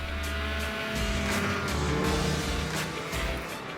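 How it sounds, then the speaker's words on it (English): Snowmobile fitted with an MBRP aftermarket exhaust can, engine droning loudly with rhythmic rises and dips in revs as it accelerates and pulls out of corners, nearby and continuous with no voices. "After installing the can, the sound coming from this sled is way more pleasing to the ear."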